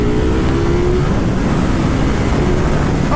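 Ducati Panigale V4 S motorcycle in sport mode, accelerating hard on the road, a loud continuous engine roar with rising tones, dense and close with constant wind rush and no talking.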